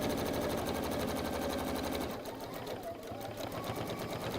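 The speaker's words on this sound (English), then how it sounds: "you're just going to top stitch along here" A sewing machine runs top stitching along fabric, its fast, even needle hum close and continuous, easing slightly in pace partway through.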